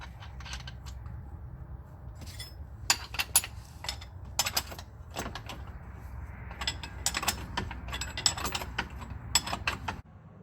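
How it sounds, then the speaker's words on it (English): A nut being tightened on a Dodge Grand Caravan front control arm produces bursts of sharp ratcheting clicks in several runs, close and clear over a low steady background hum. "Now we're going to install our nut and tighten it down."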